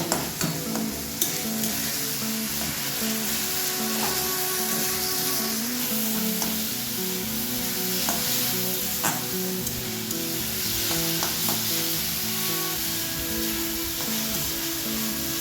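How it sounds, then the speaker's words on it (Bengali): Chopped onions fry in a pan with a constant close sizzle, while a spoon stirs and scrapes through them in irregular strokes, with no voices. "দিয়ে দিচ্ছি পেঁয়াজ কুচো। এবার এটাকে একটু ভেজে নেব।"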